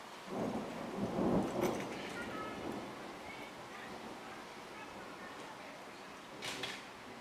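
A thunderstorm in Charlotte, North Carolina, with a low rumble of thunder and steady rain falling throughout, swelling louder early on and staying as a constant wash of near rainfall.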